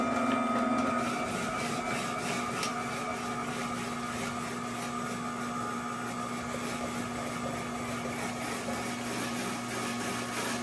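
An Amzchef ZM1517 slow masticating juicer grinds through food with its fine shred grater attachment, a steady close motor drone with a constant hum and rough grating texture throughout, no talking.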